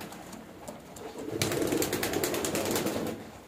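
A pigeon chick is handled up close and gives soft coos and rustling flutters that grow louder partway through and continue to the end, with no talk heard.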